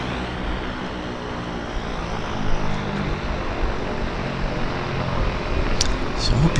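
Harbour Air floatplane engines start up at Vancouver Harbour, a continuous throaty propeller rumble that swells a little partway through and stays strong, with faint voices mixed in.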